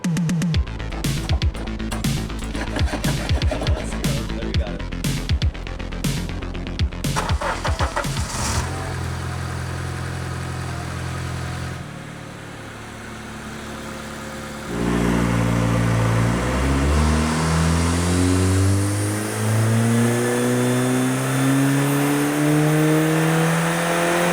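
A powerful turbocharged Honda K-series engine in an EG Civic revs hard with rapid popping bursts, settles to a steady drone, then climbs loudly through rising revs, close and dominant.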